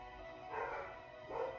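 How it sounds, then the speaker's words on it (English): Dogs barking indoors at a new home, two short bursts of barks from a room away, moderately loud over a quiet background. "Sorry about my dogs."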